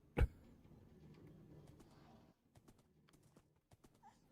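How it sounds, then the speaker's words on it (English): Skeleton horse hooves in Minecraft clip-clop softly in a short string of light, irregular taps after one sharp louder knock, faint and close with no talk. "Skeleton horse, please don't."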